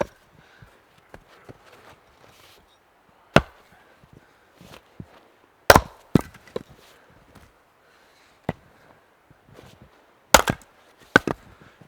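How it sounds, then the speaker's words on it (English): Frozen firewood being split outdoors in deep cold, sharp loud cracks and chops at irregular intervals with quieter knocks and splintering between, against a near-silent background. "You can tell it's very cold when the wood splits that easily."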